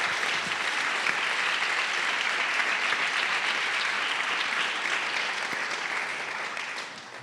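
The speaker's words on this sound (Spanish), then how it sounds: "Dale un aplauso al Señor esta mañana." A church congregation gives sustained, dense applause that holds steady and then tapers slightly at the end.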